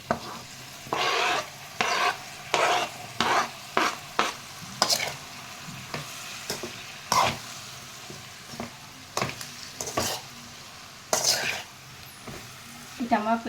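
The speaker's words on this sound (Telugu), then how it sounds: "ఇప్పుడు టమాటా ముక్కలు వేద్దాం" Tomato pieces hit hot oil in a pan for a home-style pulusu curry, giving repeated bursts of close, crackling sizzle with stirring scrapes between them, loud at each addition and fading back to a low fry.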